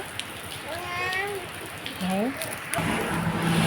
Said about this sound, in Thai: เราติดฝนเด้อ